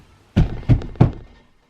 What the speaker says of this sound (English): that was me banging the floor